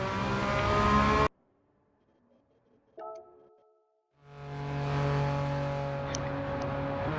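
A Porsche race car in Gran Turismo 7 at a Porsche Cup event: a loud engine burst cuts to silence, a brief tick follows, then a steady engine drone swells up and holds.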